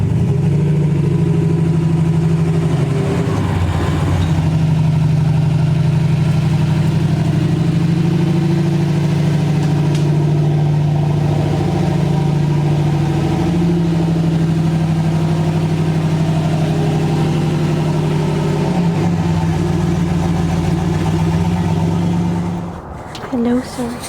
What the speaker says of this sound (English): Just getting the truck pulled into the trailer.